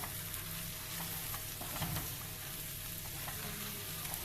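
Pilaf with strong spices being stirred in a hot pan, a steady close sizzle with soft scraping of the spoon, no voices.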